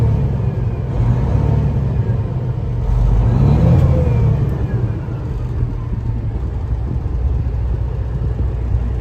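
A 2016 Peterbilt 389 factory-built glider truck's diesel engine running steadily with a deep, loud low rumble, rising slightly in a brief rev before settling back, with no one talking.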